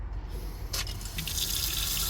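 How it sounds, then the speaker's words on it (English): Tap water runs steadily from the faucet of a 2023 Winnebago Travato RV on a Dodge ProMaster 3500 chassis, with the onboard water pump switched on; the flow makes a continuous close hiss and splash. "Water pump on."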